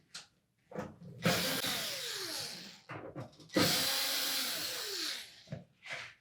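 A power screwdriver backs out #2 Phillips screws from the rear access panel of a Samsung range, two long whirring bursts with rising and falling pitch, loud and close, separated by short clicks and handling noise.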